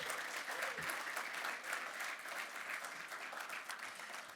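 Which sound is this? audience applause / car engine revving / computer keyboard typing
audience applause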